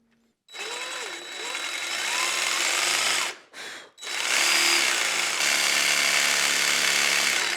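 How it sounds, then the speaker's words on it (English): A jigsaw cuts through a wood fence piece for a crosscut sled, a loud steady buzzing run that pauses briefly midway, then resumes at full strength until the end. "I'm doing this quickly with my jigsaw."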